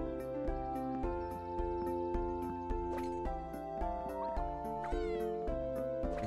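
A cat meows repeatedly in the video game Edgar - Bokbok in Boulzac, loud, clear cries over a steady, rhythmic musical backing track, with no talking.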